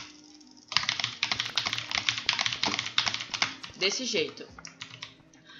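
Rapid clattering keystrokes on a computer keyboard during Minecraft HG PvP play, close and busy with irregular bursts over game sounds, with someone speaking briefly in Portuguese.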